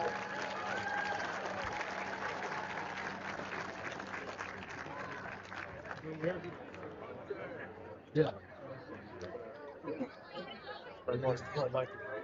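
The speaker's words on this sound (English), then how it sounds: "can we have one more round of applause for all of our senior athletes?" Crowd applause for senior athletes at a high school football game fills the first half, then fades into murmuring chatter with a few scattered claps and thumps.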